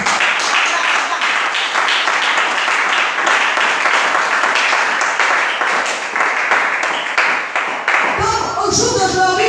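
A church congregation claps and applauds continuously for several seconds, a dense, loud wash of hands close by. A sharper clatter near the end suggests voices or movement.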